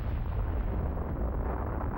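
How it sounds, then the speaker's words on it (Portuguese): An atomic bomb explosion from uranium or plutonium fission is heard as a loud, continuous deep roar and rumble that fills the whole clip without letup. "provocando uma explosão de proporções nunca vistas"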